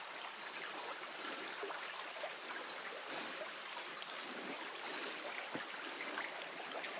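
A forest river flows steadily through spring woodland, a soft continuous wash of moving water heard alone with no voices, fairly faint and even throughout.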